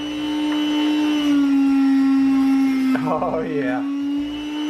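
Motorized meat slicer shaving roast beef thin for New York pit beef, a steady close whine that shifts pitch as the blade loads, with someone briefly talking over it.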